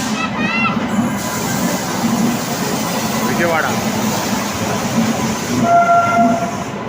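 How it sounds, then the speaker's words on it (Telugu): A WAP-7 electric locomotive hauls the Vikrama Simhapuri Superfast Amaravati Express from Vijayawada to Gudur, a loud continuous rumble of rolling wagons with a short horn blast near the start and another toward the end. "ఇది వ్యాప్ 7 లోకోమోటివ్."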